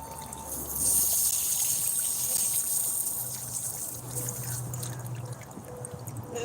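Water poured over potted adenium plants during repotting, a steady close trickle and splash running through the whole clip with a low hum beneath.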